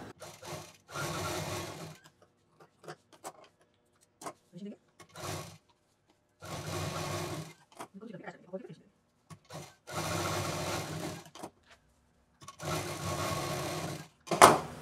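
A home sewing machine stitches a zip onto one side of a quilted sling bag, running in several steady bursts of a second or two each with pauses between, close and moderately loud, while someone talks in the gaps.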